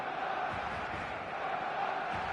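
A stadium crowd roars in the eFootball 2026 football game as two sides prepare for kickoff, a steady, dense wash of cheering and chanting that holds at an even level throughout.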